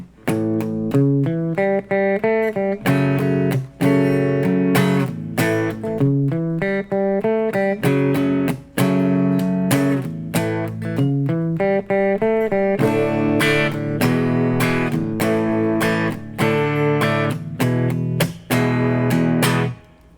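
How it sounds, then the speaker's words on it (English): An electric guitar plays the intro of a song: a loud, continuous riff of strummed chords and quick melodic runs, with rhythmic stops between phrases. "So the entire intro with the lick sounds like this."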